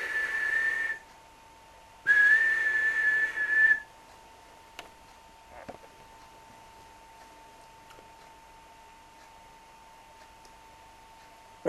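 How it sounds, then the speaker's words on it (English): Two sustained, high whistle tones, each about two seconds long and separated by a short gap, followed by quiet with a faint click or two. "The little ponies were just on their way home when they heard Tilly's whistle."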